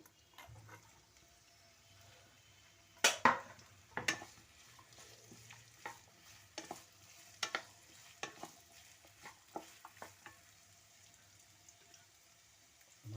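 Onions fry quietly in a spoonful of oil in a pan, a faint low sizzle under repeated clicks and scrapes of a spoon stirring, with a few sharper knocks against the pan.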